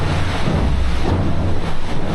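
Loud rushing water surges under the 5-millimeter carbon fiber hull of a Vendée Globe racing yacht in the Southern Ocean, a heavy rumbling wash with gusty wind noise, unbroken and without talk.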